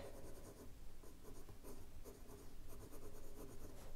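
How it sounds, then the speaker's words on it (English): A fountain pen with a Techo nib writes on paper, making a steady close-up scratchy scribble with slight rhythmic pulses from the strokes. "The Techo nib in use feels like a smoothed out architect nib."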